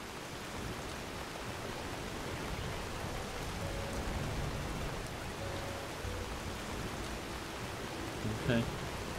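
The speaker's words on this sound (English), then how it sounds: "Is it raining?" Steady rain falls in the fantasy video game Enderal, a soft, even hiss throughout with no distinct drops, faint and continuous under the game's ambient sound.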